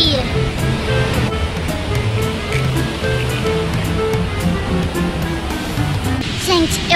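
Sea waves rolling onto a beach beside a kiosk, a continuous broadband rushing surf that swells and recedes steadily, fairly close and loud, with faint voices mixed into the background.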